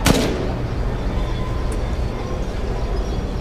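A single loud gunshot fired in the video game Resident Evil 8, a sharp blast at the very start followed by a sustained rumbling ambience and low boom tail, with no talk.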